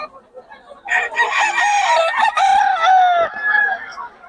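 Young roosters, still stags, crow loudly and close at a poultry seller's stand, overlapping calls with some clucking.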